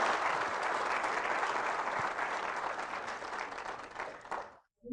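A church congregation at a Catholic service applauds in a sustained, dense wave of clapping that fills the room, then cuts off sharply near the end.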